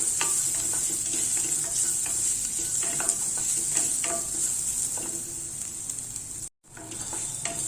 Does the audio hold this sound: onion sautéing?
yes